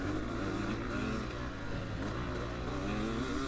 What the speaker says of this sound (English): I kept on the gas on the 4-stroke a bit longer there